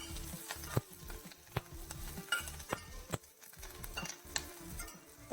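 Bitter gourd with curry leaves sautéing in a pan, a quiet crackling sizzle broken by regular sharp taps and scrapes of a spatula, close by and fairly faint.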